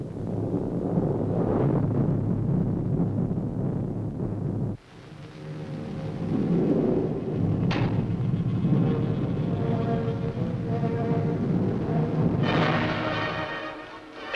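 Distant artillery fire rumbles through a 1945 Ukrainian war drama, a continuous low booming roar with a sudden cut and a few sharper distant thuds, no talk.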